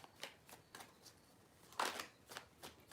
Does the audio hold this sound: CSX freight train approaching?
no